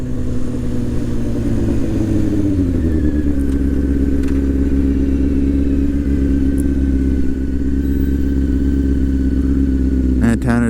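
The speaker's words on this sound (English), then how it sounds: "And Tanner's bike's going good now." A motorcycle engine drones loudly and steadily while riding, with a low rumbling tone and a slight pitch dip as it shifts. Wind and road noise sit under the engine, and a voice speaks briefly at the very end.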